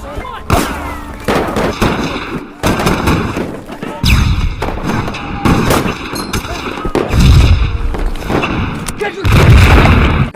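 Gunfire and heavy explosions from a World War II battle scene in a war film about the Malmedy massacre, with repeated loud bursts and booming impacts throughout, mixed with shouting voices.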